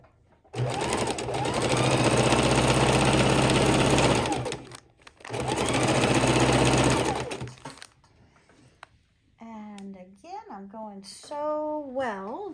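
A sewing machine set to stitch width 3 and length 1 runs loud and steady, stitching raw-edge appliqué in two long bursts with a short pause between them, and then stops while a person talks.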